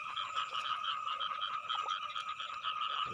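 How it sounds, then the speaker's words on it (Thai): Frogs croak in a steady chorus at night beside water while hunting mole crickets, with dense repeated calls layered together, moderately loud and continuous with no voices. "กบ เป็นกบพี่น้อง"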